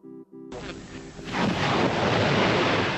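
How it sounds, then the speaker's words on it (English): Gunfire during fighting in Nicaragua near the Honduran border: after a brief tonal intro, a sudden dense, loud roar of blasts and rumble bursts in and holds steady to the end. "gunfire could always be heard"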